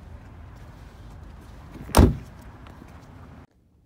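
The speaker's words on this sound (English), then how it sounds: "If we go ahead and press the rubber pad under the Chevrolet bow tie, it'll activate our lift gate" A 2019 Chevrolet Impala Premier's rear lift gate opens, giving one short mechanical whoosh and thud near the middle, close by and fairly loud over steady background hiss that cuts off abruptly.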